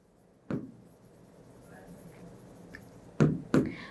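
A pen writes on paper during a maths lesson: a few short, close scratchy strokes, with one near the start and a quick pair near the end, over quiet room tone.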